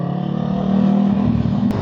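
A CFMOTO 700CLX motorcycle with a remapped ECU ridden on a city road, its engine droning steadily close by and rising slightly in pitch as it accelerates.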